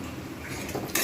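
Chilli and turmeric powder stir-fried in a pan for a prawn curry, with a soft low sizzle and a sharp metallic utensil scrape against the pan near the end, close and brief.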